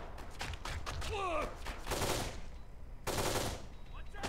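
Rapid bursts of automatic gunfire and scattered shots from the video game Kane and Lynch 2, fairly faint and clustered in quick volleys with short gaps between them, with no talk heard.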